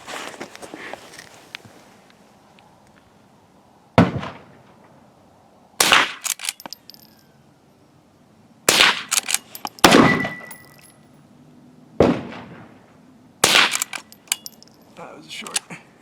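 Sharp cracks of a Henry .22 lever-action rifle firing at an outdoor shooting line, about six spaced shots across the span with metallic clicks and clatter from the lever action between them.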